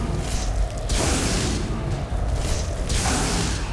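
Repeated whooshing, booming magic spell blasts in the video game Skyrim, with broad bursts near the start, around the middle and near the end over a steady rumbling bed, loud and with no talk.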